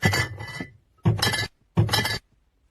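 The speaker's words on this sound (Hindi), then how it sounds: "दारू की बोतल की आवाज, मेरे बाप को पेजेस की आवाज लगेगी" Liquor bottles clinking: three separate bursts of glass-on-glass rattling, each lasting about half a second, loud and close, with short silent gaps between them and no talk.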